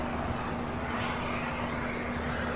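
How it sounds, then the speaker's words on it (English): A Boeing 787 Dreamliner airliner taxis at LAX, turning onto a taxiway, giving off a continuous, even engine drone with a faint steady whine throughout. "At the All Dreamliner making that left-hand turn onto Bravo"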